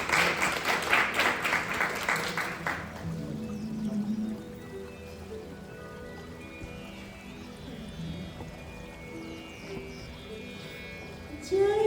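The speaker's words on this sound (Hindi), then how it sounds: "आप सब तालियों से उनका स्वागत करें।" A crowd at a Hindi writers' autumn festival in Canada claps briefly to welcome a performer who is opening with a Saraswati invocation. After about three seconds of clapping, quieter room sound and a faint voice follow.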